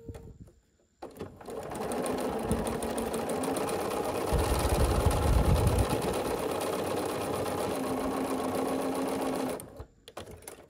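A sewing machine stitches around Dresden quilt petals for a quilted table topper, a steady close mechanical whir that runs for several seconds between brief pauses at start and end.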